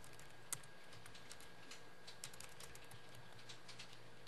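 Quiet, sparse typing on a computer keyboard during a Korean ASP.NET programming tutorial, scattered light key taps at an irregular pace against a low steady hum.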